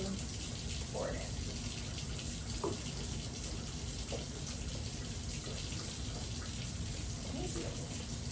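Water pours continuously into a bowl on a kitchen scale with a steady rushing splash, close by, faint voices barely present beneath it.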